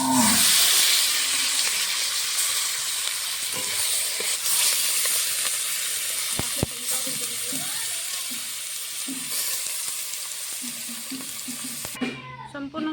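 Fish frying in oil in a pan: a dense, steady hiss and sizzle runs throughout, close and loud, with a few brief knocks and clatters of the pan before it cuts off near the end.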